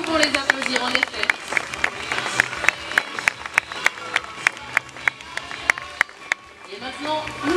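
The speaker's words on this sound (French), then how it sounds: "Nous pouvons les applaudir en effet" Zoo audience at a sea lion show claps in a scattered burst of sharp hand claps, under a continuous crowd bustle and faint talk.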